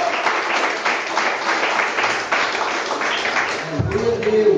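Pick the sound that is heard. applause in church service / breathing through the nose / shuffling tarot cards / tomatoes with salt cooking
applause in church service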